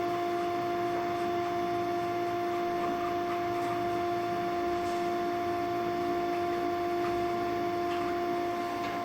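Brice PR360 sausage filler machine running with a steady electric hum and constant mechanical whine, unchanging and close, with faint clicks from the machine.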